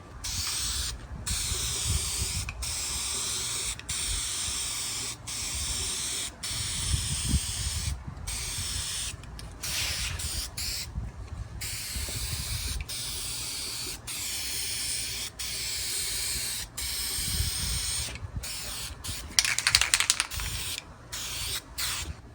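A Duplicolor spray can lays a light coat of paint over a valve cover, a series of close hissing sprays of varying length separated by brief pauses, with a stronger burst near the end.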